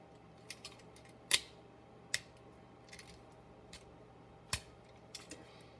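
Plastic parts of a Transformers Earthrise War for Cybertron Optimus Prime toy figure click into place in a quiet room: a handful of sharp, small clicks spaced irregularly, close by but faint.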